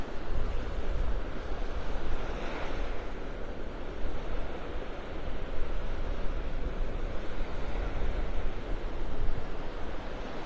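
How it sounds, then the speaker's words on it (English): Strong wind roars and buffets continuously on Delnor-Wiggins beach in North Naples, Florida, a broad rushing noise with surf-like swells and no voices. "There's so much wind out here"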